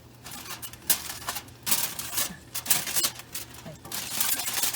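Aluminium foil is peeled off a pan of roast beef, producing close, loud crinkling and crackling bursts in irregular bursts throughout.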